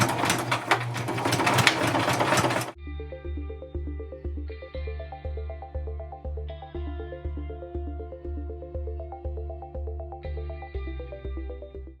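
A sewing machine stitches art doll pieces with a steady, even mechanical chatter that runs close and clear for most of the stretch, following a brief burst of broadband noise at the start.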